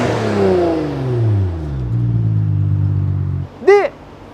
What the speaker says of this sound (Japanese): このマフラーは最後の方の高回転の音がなんかカーンってこううなるような音がするので